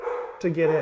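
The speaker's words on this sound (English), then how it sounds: "if you're hearing a dog in the background" A dog barks in the background at the speaker's home, giving a couple of short, mid-pitched yips near the end under a man's ongoing speech.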